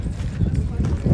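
Two bulls at a Patgaon bullock cart race trot in a round, their hooves thudding in a quick, uneven clip-clop close by, while someone talks loudly over them.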